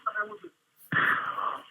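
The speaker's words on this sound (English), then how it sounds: "why the fuck are you breathing like that, dude?" A phone caller's heavy breathing on a call-in show: a loud, rough breathy rush following a brief stretch of talk, close and harsh through the line.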